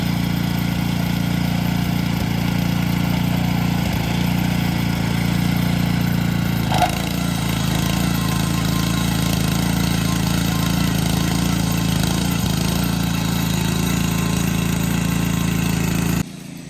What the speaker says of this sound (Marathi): आता चालू झालेला आहे ट्रॅक्टर